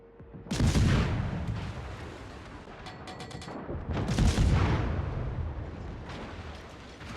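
Naval guns fire HE shells in World of Warships, with two heavy booming salvos a few seconds apart, each rolling out into a long rumbling decay, and a short crackle of smaller shots between them.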